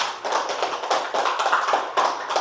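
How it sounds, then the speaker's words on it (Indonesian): Classroom applause for a student group: a small group claps briskly in quick rhythmic bursts, close and lively, for a couple of seconds. "Tepuk tangan dulu sekali lagi untuk kelompok 4."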